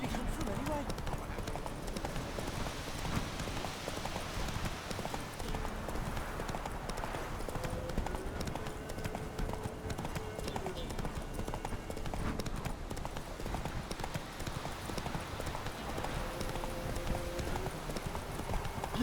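In The Witcher 3, hooves from the horse Roach clop in a fast, continuous gallop throughout, under voices talking and game sounds.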